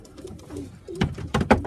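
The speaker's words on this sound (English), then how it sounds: "Let's just get this little bird" A pigeon cooing softly while being held, a few low, throaty coos close by, growing a little louder toward the end with no talking.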